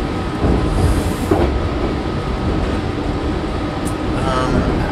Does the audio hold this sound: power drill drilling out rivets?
no